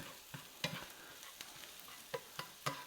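Onions sweat in a pan for a meat-loaded chili, giving a quiet, steady sizzle broken by scattered crackles and stirring clicks, close by and with no talk.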